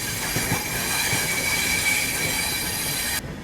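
Tirupati Jammu Humsafar Express train running on railway track near Okhla onto the ring railway line, a loud steady rumble with high wheel squeal and faint rhythmic clacks, continuous until it drops slightly at the end.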